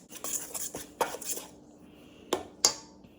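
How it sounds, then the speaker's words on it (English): A metal knife stirs and scrapes homemade pasta dough in a mixer bowl, giving scattered clinks and scraping taps with quiet pauses between them, close and fairly soft. "I'm just using the knife that I use to level off my flour to get it going a little bit"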